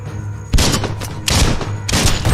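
Rapid bursts of gunfire shoot an explosive object in Biomutant, three loud close volleys of sharp shots with booming impacts, heavy and dense throughout.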